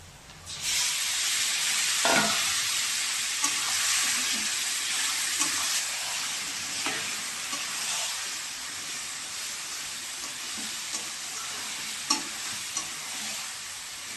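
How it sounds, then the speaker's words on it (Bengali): Meat with chilli powder frying in a pan, a loud, dense, continuous sizzle with occasional scrapes and knocks of a spoon stirring it, no voices. "খুব সুন্দর করে নাড়া দিয়ে নিয়েছি"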